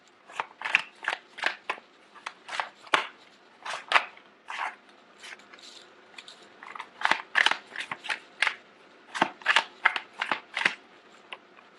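Tarot cards shuffled by hand in quick, crisp bursts of riffling and snapping, repeating steadily and loud and close, with no talking over them.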